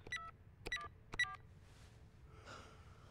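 A phone number dialed in the video game Beyond: Two Souls: three quick bursts of beeping keypad tones, close and fairly quiet, followed by soft breathing.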